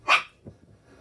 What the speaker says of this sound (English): Sorry about the barking dog in the background.